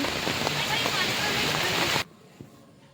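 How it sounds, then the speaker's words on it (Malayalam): Heavy rain pours down in a dense, steady roar, then cuts off abruptly partway through, leaving near silence and a single faint knock. "നല്ല മഴയായി പോയി"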